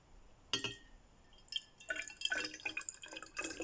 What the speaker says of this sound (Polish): Wody dodajemy niewielką ilość, około 1 trzeciej tej substancji